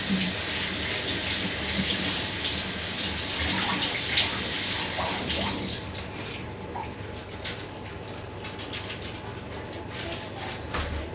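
Kitchen sink tap running over a pint of fresh blueberries being rinsed, a loud steady rush of water that softens partway through into lighter splashing and trickling, with no speech.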